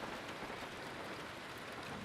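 Heavy thunderstorm rain hisses steadily throughout, with a low rumbling undertone; no voices are heard.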